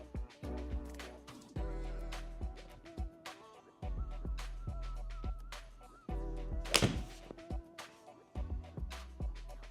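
Golf iron shots struck on a course at Spyglass, a series of sharp, solid thunks at intervals, some ringing briefly, with light handling noise between them.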